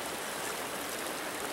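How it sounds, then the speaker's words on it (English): Soapy water being poured slowly into an Aqua Pail bucket, a steady, dense splashing rush with no pauses for the whole moment. "I'm going to slowly pour that in there."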